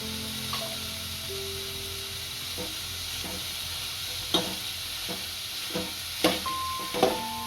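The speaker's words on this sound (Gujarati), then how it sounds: "અને સાદી રીતના ભેળવી નાખશું કોબી કેપ્સિકમ અને ગાજર" Chopped capsicum, carrot and cabbage for Manchow soup sizzle in a hot pan under a continuous hiss, while a spoon scrapes and clacks against the pan in irregular strokes, close and without speech.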